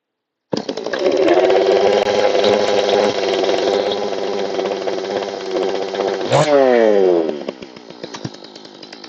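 A G111 clone of an MS200T chainsaw starts on a pull and runs loud and close, a buzzing two-stroke idle that revs up sharply once before dropping back to a lower, rougher idle.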